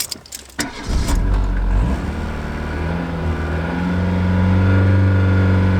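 A car engine starts with a brief cranking burst, then settles into a loud, steady close-up drone that rises as it's held at about 2000 rpm during a battery charging test.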